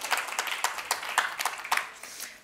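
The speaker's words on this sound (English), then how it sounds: "I feel like that needs an applause." Sparse, scattered clapping from a small group, a few distinct claps in an uneven rhythm that fade out quickly.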